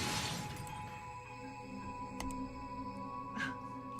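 Glass is blasted apart by a shotgun in Zero Time Dilemma, a loud shattering burst right at the start that fades into quieter game ambience with a few faint clinks.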